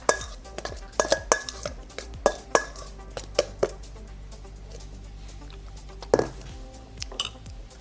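Sliced strips being stirred around a pan, giving a string of sharp clinks and scrapes of utensil on metal at irregular intervals, clustered early and again near the end, close and fairly clear with no talking.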